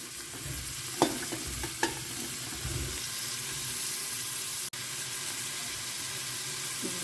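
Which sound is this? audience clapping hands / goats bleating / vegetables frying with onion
vegetables frying with onion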